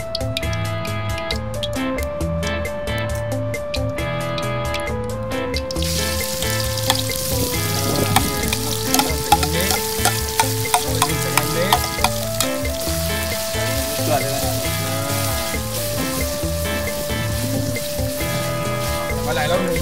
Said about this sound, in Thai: พริกเราลงไปผัดนะครับ